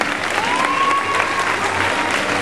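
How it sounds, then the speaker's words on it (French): An audience at the SAKADANSE 2011 dance competition in Rillieux-la-Pape claps for the award winners. The applause is loud and dense, a sustained wash of many hands with a faint voice briefly audible through it. "On applaudit aussi."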